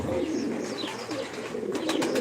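Pigeons and turtle doves coo in a crowded loft of old, long-kept birds, soft low calls overlapping steadily throughout, with a few sharper chirps near the end.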